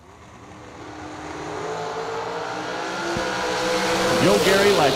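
Drag racing cars launch from the starting line at the RAD Torque Systems Fall Fling, engine roar building steadily louder with rising revs and a brief tire squeal near the end, under an announcer's commentary.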